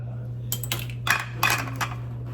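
Dry rigatoni pasta tumbles into a metal dish for stuffed shells, a few clattering, clinking bursts over a steady low hum, close and fairly loud.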